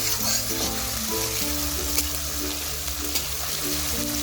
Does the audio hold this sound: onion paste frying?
yes